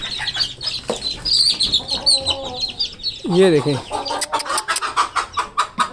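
Hens clucking and squawking close by, one with a bad eye, several birds calling in short bursts, with someone talking over them.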